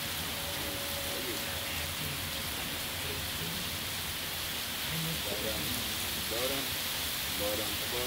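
Steady rain falling outdoors in summer, a constant hiss of drops that runs unbroken throughout, with children's voices talking over it in the later part.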